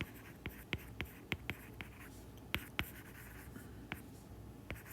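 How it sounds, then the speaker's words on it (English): Chalk or marker taps and short strokes on a board during a physics lecture on Newton's laws, a dozen sharp clicks in uneven rhythm, close and clear over faint room noise, with no talking. "Let's go ahead and write it out."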